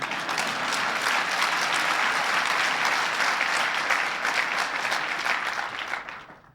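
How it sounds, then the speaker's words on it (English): A crowd applauds during President Clinton's 1993 remarks at an APEC event: loud, sustained clapping from many people, steady for several seconds before tapering off sharply at the close. "you can clap for them"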